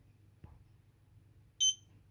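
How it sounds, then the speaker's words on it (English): A single short high-pitched electronic beep from a faulty eufy 2C security camera in an otherwise quiet room, preceded by a faint click. "So this one beeps."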